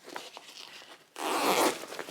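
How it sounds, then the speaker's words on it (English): A zipper on a padded laptop backpack's bottom compartment is pulled open in one quick, close, raspy stroke after a moment of faint handling sounds, with no talk over it. "At the bottom here, there's a zipper."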